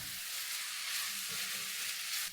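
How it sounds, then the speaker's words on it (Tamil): Soy sauce stirred into a frying egg rice mixture in a street-style pan gives a steady, even sizzle that holds throughout, with no voices. "சோயா சாஸ் சேர்த்திட்டு ஒரு வாட்டி நல்லா கலந்து விட்டுருங்க."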